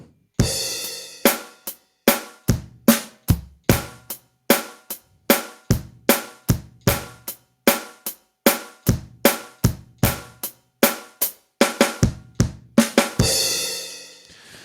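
A drum pattern opens with a crash and bass hit, then steady, evenly spaced snare strikes repeat on every beat, ending in a quick flurry and a ringing crash.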